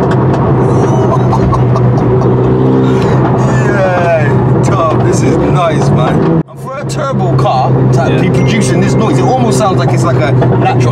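A turbocharged Renault Megane RS car engine roars loudly from inside the stripped-out cabin as it accelerates hard and comes on boost, with a brief dip as it shifts before surging again; voices talk over it.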